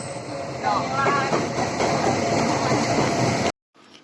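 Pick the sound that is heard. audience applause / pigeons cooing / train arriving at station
train arriving at station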